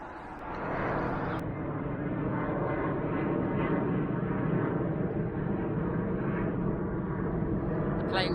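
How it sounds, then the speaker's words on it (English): A jet plane climbing out of London City Airport rumbles steadily overhead, a sustained loud roar lasting several seconds in an outdoor urban setting. "Planes coming out from London City Airport, which is very close, just over there."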